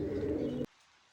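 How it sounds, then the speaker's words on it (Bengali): A short, low coo from a large-crested pigeon that stops abruptly, followed by near silence. "অনেক বড় খোপার এক জোড়া করমনা কবুতর দিয়ে শুরু করতেছি"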